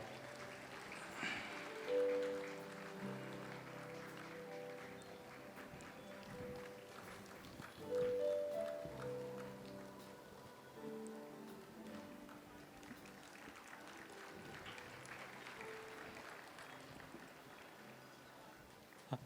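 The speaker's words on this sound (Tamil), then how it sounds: "அனைவரும் கைத்தட்டி அவரை கௌரவிப்போம்." A church congregation applauding during Christmas Eve midnight mass at Our Lady of Lourdes Shrine in Perambur, sustained crowd clapping from a distance with organ or keyboard music underneath.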